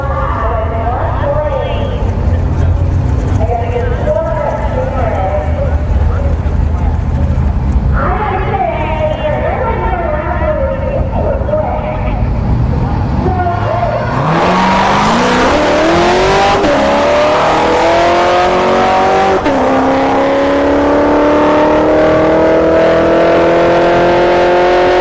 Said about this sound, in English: Andrew, with the Tesla Plaid channel, is going up against a C7 Corvette